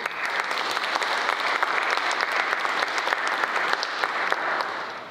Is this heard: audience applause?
yes